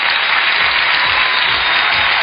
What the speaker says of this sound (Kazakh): Шапалақ қошемет.